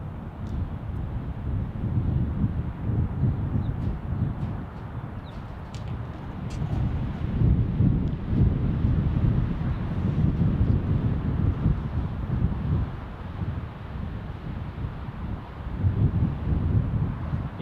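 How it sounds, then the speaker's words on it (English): Gusty wind at Salt Lake City International Airport buffets the microphone with a steady, loud low rumble that swells and eases in waves for the whole stretch, with no talk over it. "It is breezy today, that is for sure."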